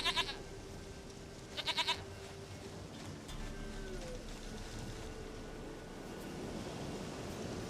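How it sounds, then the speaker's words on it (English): A goat bleats in the video game The Witcher 3, two short wavering calls near the start over a constant wash of ambient game noise, with no talking. "Goat of mine, dearest, sweetest goat."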